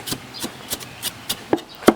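Knife finely chopping garlic on a board, around seven crisp, close taps in a loose steady rhythm, the last couple a bit heavier, with no speech.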